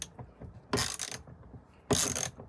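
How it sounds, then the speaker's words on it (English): A manual ratchet wrench loosens bolts on a shelf inside a truck cab, giving two distinct bursts of rapid clicking ratcheting, close and fairly loud, separated by a quiet pause. "I don't have an electric tool, so I gotta use the manual one"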